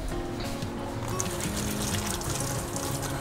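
Tap water running steadily while something is rinsed at a home kitchen sink during preparation of ginataang munggo with pandan and langka, a continuous close splashing trickle with no talk.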